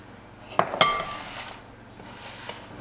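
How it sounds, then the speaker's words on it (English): Ice cream scoop scraping through chocolate pepper cookie dough in a bowl, with two sharp metallic clinks followed by a soft rubbing scrape that fades out, close up and without voices. "I'm just going to use my ice cream scoop right here just to scoop even sizes."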